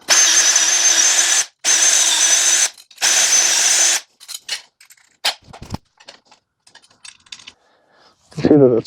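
A power drill enlarging bolt holes, three loud sustained whirring bursts close up with short gaps, followed by scattered clicks and handling noises of tools and parts.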